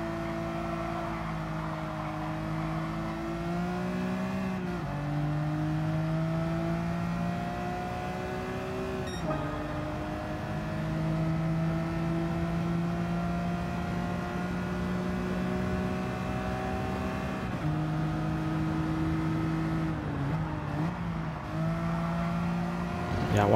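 A 2002 Dodge Viper GTS racing car in Gran Turismo 7, its engine droning steadily and revving up through gears with brief dips at shifts, a sustained loud whine running throughout.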